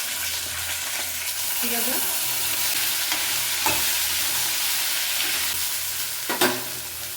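Mustard seeds and cumin sizzle and crackle steadily in hot oil in a home kitchen pan for a vegetable sambar, with a few sharper pops and a brief spoken word.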